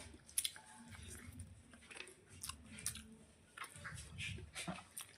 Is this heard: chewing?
yes